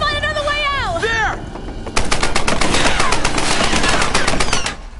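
Rapid automatic gunfire in the 2013 Tomb Raider video game, loud, dense bursts of shots running for about three seconds after a short stretch of game voice and sweeping musical tones.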